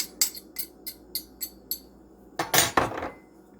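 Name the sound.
mixing flour, baking powder, salt and orange zest in a bowl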